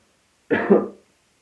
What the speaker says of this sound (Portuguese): Eu peço desculpa da tosse